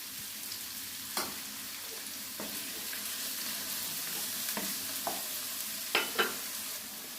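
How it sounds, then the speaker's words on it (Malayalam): Onion with ginger-garlic paste sautéing in a pan, a low steady sizzle with a few sharp scrapes of a spoon stirring, alone and fairly quiet. "ഇനി ഇത് നന്നായിട്ടൊന്ന് വഴറ്റിയെടുക്കണം"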